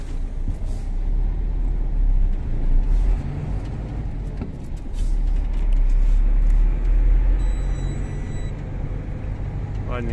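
A car engine idles steadily with a low rumbling drone, its revs eased down slightly, heard close and continuous with faint higher hiss on top and no speech.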